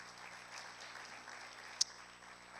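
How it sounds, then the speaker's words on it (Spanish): Church congregation applauding during a Spanish-language worship service, a faint, even, distant patter of many hands with a single sharp tick partway through and no voices. "Denle un fuerte aplauso a Cristo Jesús"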